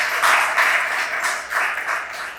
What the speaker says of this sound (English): I applaud you, yay!